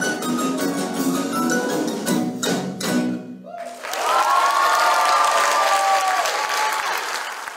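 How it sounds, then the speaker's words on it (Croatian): An audience at a junior music competition breaks into loud, sustained applause, a dense wash of clapping that swells into a full ovation with some cheering and whistling near the end. "ovacije, su bile toliko glasne da su se skoro zidovi srušili"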